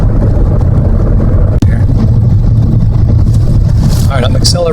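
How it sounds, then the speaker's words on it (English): A 2020 Hyundai Elantra SEL accelerating on the road, heard from inside the cabin as a loud, steady engine and road drone, with a sharp click partway through and chirpy sounds near the end. "Alright, I'm accelerating a little bit"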